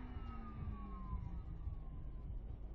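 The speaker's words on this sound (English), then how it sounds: "Electric canopy closer." An electric canopy motor closes the canopy of a P-47 in the DCS flight simulator, a steady whine sliding slowly downward in pitch over a constant low engine rumble.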